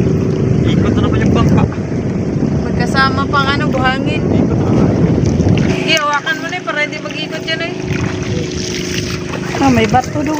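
A motorboat engine drones loudly on the water while wind buffets the microphone, and people chatter over it throughout as the boat turns around.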